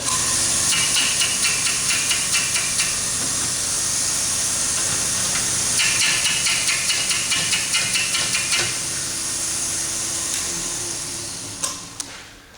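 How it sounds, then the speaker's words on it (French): A Viel S5-M grinder-sander sharpens a drill bit, giving a steady loud hissing whir with bursts of rapid rasping grinding as the bit is worked against the wheel, then the sound tapers as the machine winds down. "On approche tranquillement jusqu'à temps que la mèche vienne frôler. Ensuite, on part la machine."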